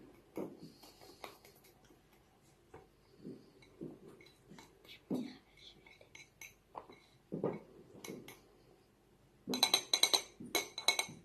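A spoon clinks and scrapes around a bowl while cake batter with ham and olives is mixed, irregular taps and knocks at close range, ending in a quicker burst of sharper clatter.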